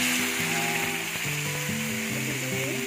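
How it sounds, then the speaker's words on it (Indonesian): Shallots frying in a hot pan for an Indonesian ayam bakar Taliwang dish, giving a steady, close sizzle that runs evenly throughout with a low rumble beneath. "bawang gorengnya kita goreng ya"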